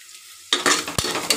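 Onions browning to a reddish colour for Sunday chicken biryani burst into loud, close sizzling after a brief low hum, with quick stirring scrapes and a sharp clink of a spoon against the pan.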